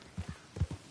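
Horse hooves clip-clop in Red Dead Redemption 2, two quick pairs of soft, muffled footfalls.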